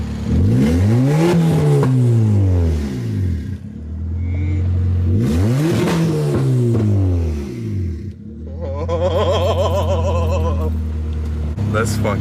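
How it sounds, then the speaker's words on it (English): Tuned hatchback engine with a crackle/pop map revving hard in repeated swells, each rise and fall of pitch loud and close, then settling into a steady idle with raspy rumble; voices talk over parts of it. "The car sounds so much better now because the idle's cleaner."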